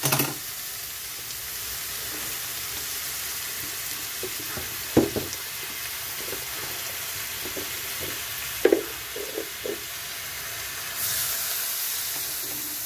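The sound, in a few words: water added to frying taro stems with shrimp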